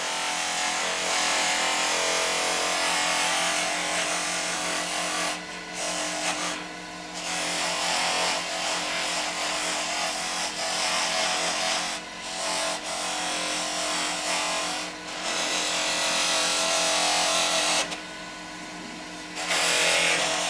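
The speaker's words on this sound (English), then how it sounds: "we can use the buffing wheel to put a bit of a shine on the stopper here" Buffing wheel polishing a wooden bottle stopper, a steady loud whirring hiss of the spinning wheel against wood, with brief dips where contact eases off, no talk.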